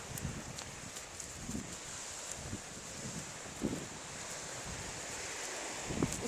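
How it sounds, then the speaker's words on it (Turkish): Steady wind blustering at the seaside, a continuous broadband rush with occasional gusts and soft low rumbles against the microphone. "Biraz rüzgar var."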